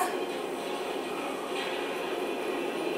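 A train rumbling past in a TV show scene, a steady mid-loud rushing roar with no pauses, alone without speech.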